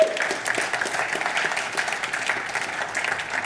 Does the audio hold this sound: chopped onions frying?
no